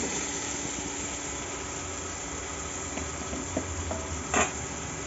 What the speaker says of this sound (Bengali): এখানে যে মাছ ভাজা হচ্ছে